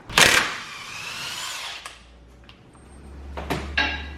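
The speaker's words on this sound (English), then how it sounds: "32 millimeter, big old guy and an impact, and you can pull it right off" An impact wrench rattles loose a 32 mm axle nut on an S chassis car: a loud hammering burst that runs for over a second, then clanks of the nut and tool in a quiet garage.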